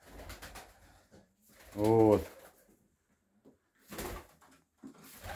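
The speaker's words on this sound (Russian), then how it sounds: "Воркуют, гудят." Pigeons cooing while feeding, with one clear throaty warbling coo close by between stretches of someone talking and faint rustling.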